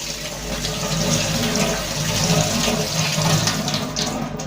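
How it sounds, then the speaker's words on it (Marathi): Continuous rush of cold water pouring steadily over mustard greens, loud and close, with a constant splashing hiss and no talking. "आता ह्या मोहरीच्या भाजीवरती थंड पाणी टाका"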